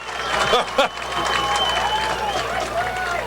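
A football crowd at a high school game between Thornton Academy and Windham sends up a brief burst of cheering and clapping, with a commentator talking over the steady crowd noise.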